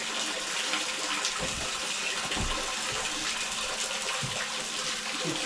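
Water gushing from a tap with strong pressure, a steady broadband rush running continuously throughout, fairly close and unaccompanied by talk.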